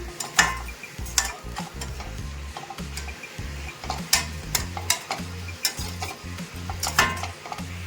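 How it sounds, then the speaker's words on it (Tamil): Spinach greens stirred and cooking in a pan on a stove, with steady scraping strokes of a spoon in a repeating rhythm over a soft background sizzle, close and moderately loud. "கீரை வந்து நல்லாவே வெந்துடுது. இதை இன்னும் கொஞ்சம் நேரம் மிக்ஸ் பண்ணிவிட்டு அப்படியே மூடி விட்டுடலாம்"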